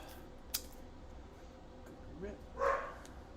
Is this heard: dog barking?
yes